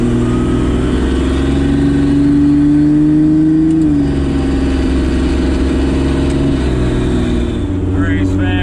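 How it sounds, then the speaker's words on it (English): A Toyota Supra fitted with a new turbo accelerates on the road, heard from inside the cabin as a loud, steady engine drone that rises in pitch, with a brief shift in tone midway. "Let's see how this little turbo spools up, and if it sounds any different"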